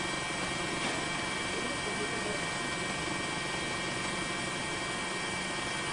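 A news helicopter flying over Sendai gives a continuous, dense broadband roar, steady and unbroken, with talk faintly mixed in.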